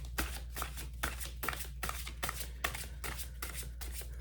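A large tarot deck is shuffled over and over by hand, a quick rhythmic run of soft papery riffles and slaps, close and fairly quiet against a low steady hum.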